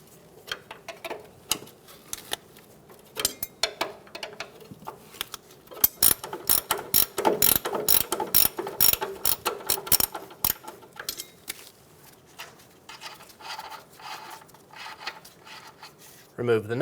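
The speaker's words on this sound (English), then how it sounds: "Using two 21mm wrenches, we're going to loosen the nut on the adjuster bolt." Two 21mm wrenches loosen the adjuster bolt nut on a 2014-2018 Chevrolet Silverado 1500 control arm, producing rapid metallic ratchet clicks in bursts, loudest in the middle, with occasional talk.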